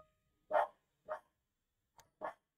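Dogs barking outdoors in four separate sharp woofs spaced unevenly, the last a pair in quick succession, moderately distant and alone without talk.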